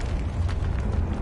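A Confringo fire spell blast in the Hogwarts Legacy video game, a loud rumbling explosive burst with crackling tail, sustained and heavy in the low end, with no talk.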